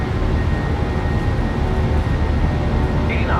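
A PMDG Boeing 737-800 in Microsoft Flight Simulator 2024 runs its engines at takeoff power, producing a loud, steady, dense roar with no letup.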